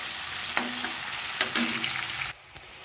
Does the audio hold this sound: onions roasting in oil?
yes